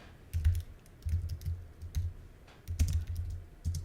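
Keys clacking on a computer keyboard in irregular quick bursts with short pauses between them, close and fairly quiet, with no speech.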